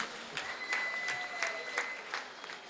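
An audience claps steadily at a Tamil debate event in Manalurpettai, a moderately distant, even patter of applause with a few sharper claps and a faint whistle-like tone over it.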